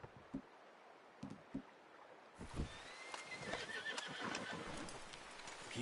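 Horse in the Red Dead Redemption 2 video game whinnying, with a few clip-clop hoof steps early on, then louder movement and ambient outdoor sound building in the second half.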